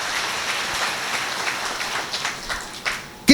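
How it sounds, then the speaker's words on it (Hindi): Worshippers at a church service clap hard together, a scattered, uneven patter of many hands that swells in bursts toward the end, fairly close and without anyone speaking. "जोरदार ताली बजाना"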